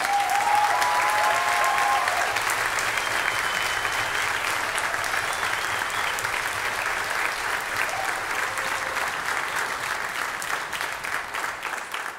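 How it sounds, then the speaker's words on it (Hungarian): Concert audience at a New Year film music concert applauding in a hall, a loud, sustained, even roar of many hands that barely fades over twelve seconds, with faint tonal traces early on. "köszönet Pónya Bencének, szóljon hármuknak egy hatalmas taps"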